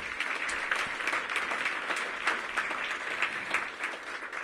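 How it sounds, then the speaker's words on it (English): A crowd at a city mayoral housing event applauds steadily, a dense, even patter of clapping from many hands throughout. "give my economic development and housing teams a big round of applause"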